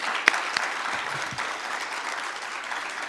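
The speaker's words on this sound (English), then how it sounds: "a round of applause" Audience at a fintech conference applauding newly announced collaborators, steady moderate clapping throughout with a few sharper claps near the start.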